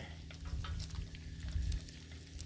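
Bacon sizzles on a Blackstone griddle at a Sunday brunch cookout, a constant crackling fry with popping spatters that swell and fade, close and fairly faint.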